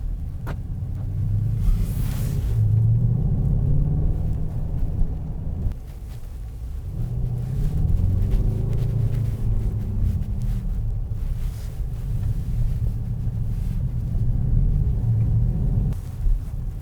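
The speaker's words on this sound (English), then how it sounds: "exhaust and how beautiful it sounds" Low, steady engine and exhaust rumble from a 2019 Mercedes-Benz GT63 on a test drive, heard from inside the car with a continuous drone that swells slightly in places, no talking.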